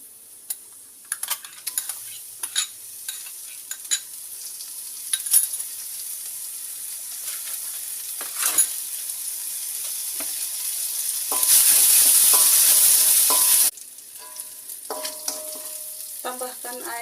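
Ground spice paste for Sundanese gulai with green beans sizzles and fries steadily in a pan, with repeated scraping stirs and utensil clicks; the sizzle swells loudly for a couple of seconds midway, then settles back, with no talking.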